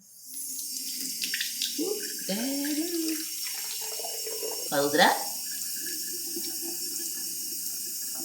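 Water runs from a tap into a case, a soft steady flow with gurgling and splashing, while someone speaks briefly over it.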